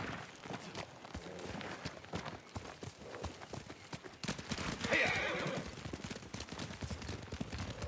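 Horses in a PS5 video game clip-clop steadily as riders set off, with a neigh rising midway through the busy, layered game soundscape.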